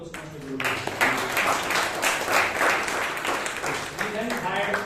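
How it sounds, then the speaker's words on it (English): An audience claps at a Toastmasters club meeting in Bangalore, a bright crackle of hands that breaks out after a brief voice and holds steady for several seconds, with speech audible around it. "And a round of applause for Toastmaster Guru."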